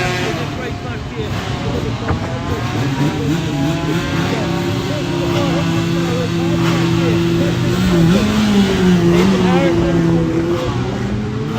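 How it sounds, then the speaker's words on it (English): V4 400 race motorcycle pulling away at a Classic TT race start, its engine note climbing steadily through the revs, loud and continuous under a commentator's voice. "And the V4 400 gets away."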